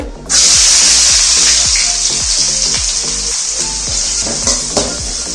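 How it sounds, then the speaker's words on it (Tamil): Sliced onions hit hot oil for a squid pepper fry, bursting into a loud, steady sizzle with soft clinks and stirring scrapes running through it, close and uninterrupted after a brief quiet start. "நான் ஒரு நாலு கரண்டி எண்ணெய் ஊற்றிக்கிறேன் வெங்காயத்தை போட்டுக்கலாம் எண்ணெய் நல்லா சூடாயிடுத்து"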